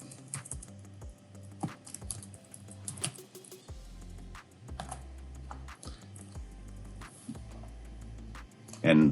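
Rapid, uneven clicking of fingers typing on a computer keyboard, close and fairly soft, continuing throughout with a brief louder knock near the end.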